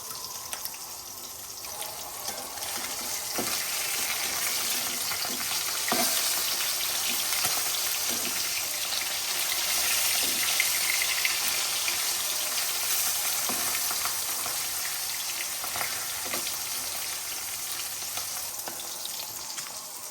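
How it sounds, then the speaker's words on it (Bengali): Fish frying in a pan on a gas stove and being turned over: a steady, bright sizzle of hot oil runs throughout, broken by a few soft clicks and scrapes as the pieces are flipped, with no talking. "তো এখন মাছগুলো আমি উল্টাই দিব"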